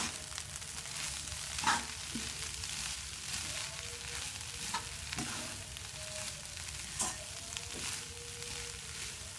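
Cabbage and bean sprouts stir-fried in a pan for Semarang lumpia filling, a steady loud sizzle and crackle with a few sharp spatula scrapes and clacks scattered throughout.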